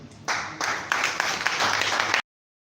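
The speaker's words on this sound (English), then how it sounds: "A round of applause" Audience applause follows a speech at a local government inauguration in Bassa, a short burst of crowd clapping rising in waves for about two seconds, then cutting off abruptly.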